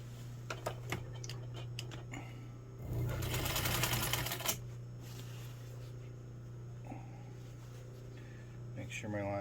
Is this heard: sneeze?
no